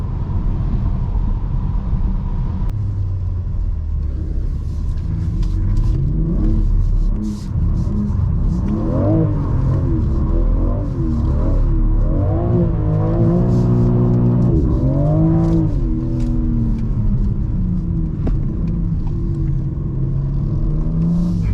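The engine of a 2022 BMW M4 Competition G82 drones loudly from inside the cabin as the car drifts, swelling through repeated rising and falling revs over a constant road rumble, with no talk.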